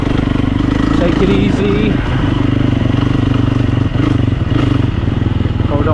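Enduro motorcycle engine running loud and steady in low gear, close by, with a chattering rumble and clatter throughout while a voice speaks briefly over it.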